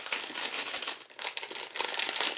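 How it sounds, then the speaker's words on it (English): Heavy plastic board game pieces rattle and clatter continuously inside a bag as they are handled, a dense, close clicking jumble with a brief lull midway. "That sounds like heavy plastic."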